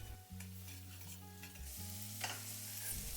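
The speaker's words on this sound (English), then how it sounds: "as you keep stirring, it all comes together nicely" A spoon stirs mashed potatoes into a pan of vegetables with garam masala, amchur, cumin and salt, a steady scraping and mixing over a faint sizzle, close and moderately quiet.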